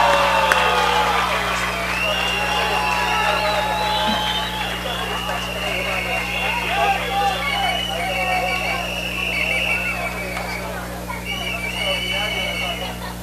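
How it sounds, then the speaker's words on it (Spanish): An audience at a literary award ceremony applauds and cheers with whoops, a sustained crowd roar that runs throughout under a steady hum. "Felicitaciones y fuerte el aplauso,"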